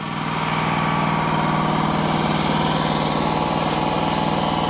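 Wood-Mizer sawmill engine running steadily at idle while milling a walnut log, a loud, close, evenly pulsing mechanical drone with a rough rhythmic throb and no voices.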